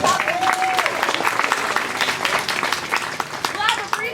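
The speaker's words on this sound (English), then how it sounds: "Let's give them a big round of applause." Audience applause at an outdoor theatre performance of As You Like It, a steady wash of clapping with some voices and cheers mixed in throughout.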